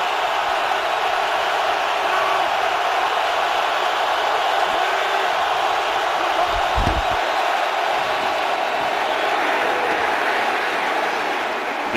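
A steady, roaring stadium crowd at a Seattle Seahawks home game against the Minnesota Vikings, a dense wash of distant voices and cheering that holds throughout, with a brief low thump midway.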